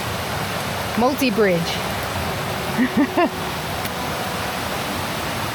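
Steady rushing waterfall in a park-building video game, a constant broad wash of falling water with a voice speaking briefly over it twice.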